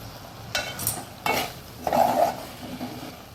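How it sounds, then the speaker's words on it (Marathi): A spoon stirs a cooked bean vegetable curry in a pan, three or four distinct scraping strokes over a faint background sizzle, close up and without speech. "भाजी एकदा आपण हलवून बघूया"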